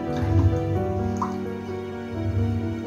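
Rice for kheer being washed in water in a kitchen, with close dripping and sloshing of liquid running steadily under a low background hum, no talk.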